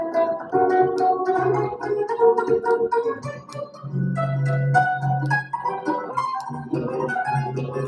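Music played back on YouTube with its pitch shifted up one and a half tones. It plays steadily and fairly loud throughout, with melodic voices and instruments and no talking over it.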